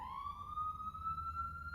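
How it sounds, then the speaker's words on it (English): An ambulance siren on a busy street outside sounds as a single rising wail, moderately distant and muffled as if heard from indoors, over low traffic rumble. "Sorry about the ambulance siren in the background."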